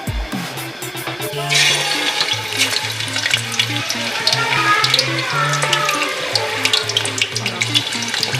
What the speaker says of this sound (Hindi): एक कढ़ाई लेंगे, इसके अंदर हम कुकिंग ऑयल शामिल करके इसको गर्म करेंगे और उसके अंदर हम चिकन का पीसेस ऐड करेंगे।